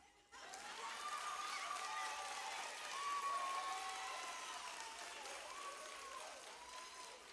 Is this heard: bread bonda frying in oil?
no